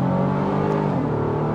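A 2023 Honda Pilot Trailsport three-row SUV engine hums steadily from inside the cabin as it drives and shifts, with a continuous smooth drone and no talking.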